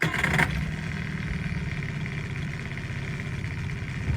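A boat motor running on a lake, a steady close engine drone holding even throughout after a brief louder burst at the start, no talking.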